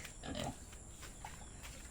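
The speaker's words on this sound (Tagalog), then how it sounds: "So ayan yung mga lagang baboy dito" Pigs in a farm pen giving a few low grunts close by, short rough snorts over a quiet background with a faint steady hiss.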